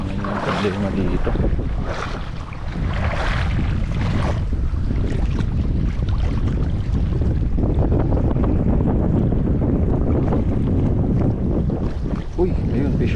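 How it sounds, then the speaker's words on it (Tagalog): Strong wind buffets the microphone continuously on a fishing boat, a loud rumbling roar with splashing water and boat noise mixed in, and occasional faint voices. "Yun lang yung hangin yung problema dito."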